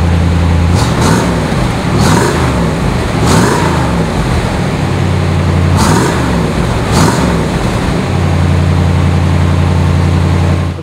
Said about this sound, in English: Let me hit the gas a little bit and